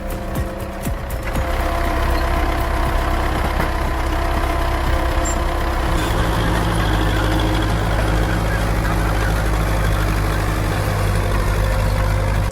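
Tractor engine running hard while dragging a heavy load uphill, a loud continuous low diesel drone with a sharp change in tone a few seconds in, alone without talk.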